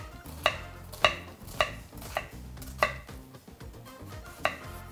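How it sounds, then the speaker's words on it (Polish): Onion diced into small cubes with a knife on a board in a home kitchen, heard as sharp, evenly spaced chops roughly every half second over a low background hum. "Cebulę pokroimy sobie w kosteczkę."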